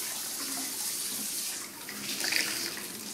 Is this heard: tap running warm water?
yes